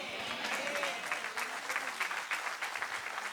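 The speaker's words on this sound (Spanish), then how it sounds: "No me aplaudieron mucho ahí" Audience applause rising during a Spanish-language church sermon: dense, steady clapping from a congregation, fairly distant and sustained for a few seconds with no speech over it.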